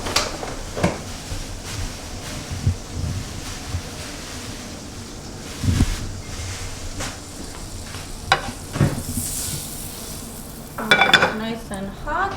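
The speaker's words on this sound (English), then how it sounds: "I'm gonna put it on high because I want the shrimp to get a little crust." Marinated shrimp frying in a pan on high heat, a continuous hiss with occasional scrapes and taps of a utensil, close and moderately loud.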